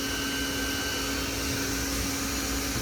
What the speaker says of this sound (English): spindle's turning on, and it's just cutting a circle in air